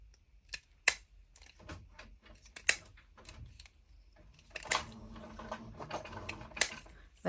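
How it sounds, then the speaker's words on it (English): A home printer that is playing up makes irregular clicks and clacks, then settles into a steadier mechanical whirring with sharp knocks, heard close with no speech. "It's my printer, but it's playing up,"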